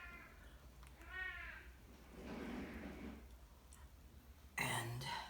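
A cat meows several times in a room where acrylic paint is being poured for fluid art, with short rising cries spread across the stretch and a louder meow near the end, heard among faint handling noises.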